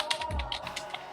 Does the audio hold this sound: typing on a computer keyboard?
yes